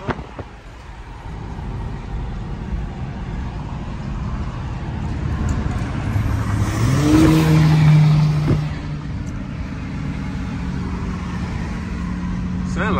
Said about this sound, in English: Sound like a supercharger